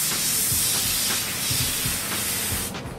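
Continuous steady air hiss from an airbrush spraying paint, fairly loud and close, with faint soft knocks underneath and the hiss cutting off near the end.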